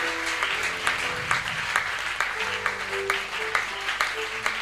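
A church congregation claps and cheers in praise, a loud burst of applause and voices that gradually thins out, with some spoken and sung exclamations mixed in.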